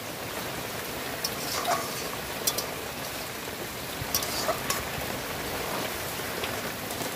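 Water from boiled banana blossom is poured off, a soft continuous splashing and trickling stream with a few louder drips, fairly quiet and steady.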